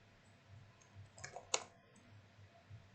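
A single sharp mouse click lands alone near the middle of a quiet stretch, with faint soft clicks just before it and low background hum throughout.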